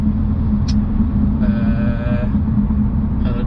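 A BMW 335i twin-turbo heard from inside the cabin gives a loud, steady low rumble. Brief higher tonal whines rise partway through as the throttle opens.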